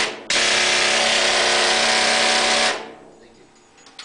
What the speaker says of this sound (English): my colleague is going to do the rock drill demonstration using a jackhammer